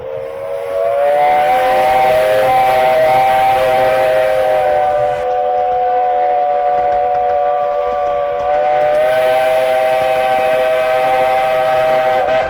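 A loud, sustained steam train whistle on the Romney, Hythe and Dymchurch Railway blows long and steady, dips briefly, then sounds again, with rail noise underneath.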